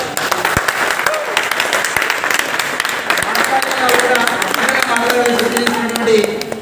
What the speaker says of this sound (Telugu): ఒక్కసారి బిగ్ క్లాప్